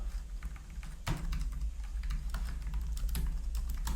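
Korean text is typed on a computer keyboard in font design software, a steady stream of close, soft key clicks with one sharper tap, over a low background hum and with no talking.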